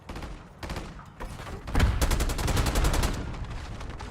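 Rapid gunfire in a shooter video game, scattered single shots at first, then a dense sustained automatic burst swelling loud in the middle before easing back to steady firing.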